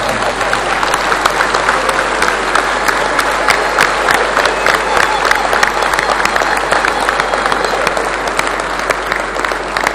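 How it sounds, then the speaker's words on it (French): Standing applause fills a large hall at the closing ceremony of an MPS party congress, a dense, steady roar of many hands clapping continuously at high volume with scattered sharp claps throughout. "J'ai dit bien des applaudissements debout, messieurs."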